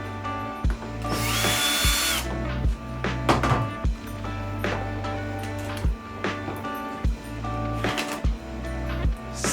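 A power drill whirs in repeated short bursts, close and loud, backing screws out of a Onewheel bumper, with small clicks and handling knocks between the runs of the motor.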